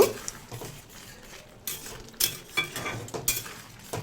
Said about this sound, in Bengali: এবার আমি এই ভেজে রাখা শাকটার মধ্যে সেদ্ধ করে রাখা ডালটা ঢেলে দিচ্ছি খুব ভালোভাবে মিশিয়ে নেব